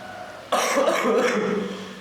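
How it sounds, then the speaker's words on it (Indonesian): One person with a sore, inflamed throat and fever gives a sudden harsh cough, a single rough burst that trails off into breathy rasp, close to the listener. "lagi batuk-batuk dia"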